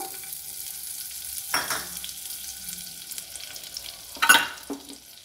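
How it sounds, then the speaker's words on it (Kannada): Butter melting in a kadai over a gas stove, a soft steady sizzle with a couple of sharp utensil scrapes and clinks against the pan. "ಇವಾಗ ಈ ಬಟರ್ ಹಾಕ್ಕೊಳ್ಳೋಣ ಫಸ್ಟು"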